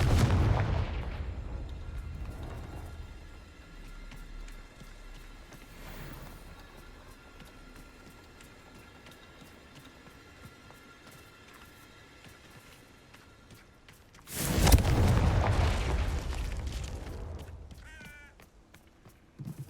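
Confringo blasting spell explosions in the video game Hogwarts Legacy, a deep booming burst at the start and another loud, sharp blast later, separated by a quieter rumbling stretch.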